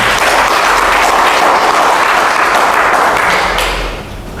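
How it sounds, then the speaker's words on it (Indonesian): A church congregation claps and cheers loudly and continuously in a dense, sustained wave of applause that fades slightly at the end. "Beri sorak-sorai bagi Tuhan."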